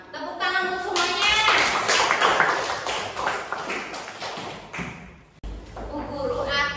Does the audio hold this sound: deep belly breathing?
no